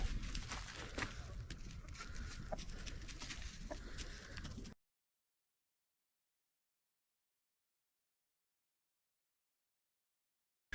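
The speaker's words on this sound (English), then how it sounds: "That's why you're Mrs. Belia's favorite rooster" Soft clucking and calls from a nearby rooster over a light outdoor background, lasting a few seconds before the sound drops away to silence.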